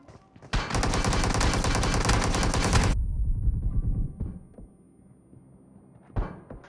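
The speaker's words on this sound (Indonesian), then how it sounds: "Temannya dari jauh nembak" PUBG Mobile gunfire: a long, loud burst of rapid automatic shots runs for a couple of seconds, then cuts off, followed by a few scattered, quieter single shots and thuds.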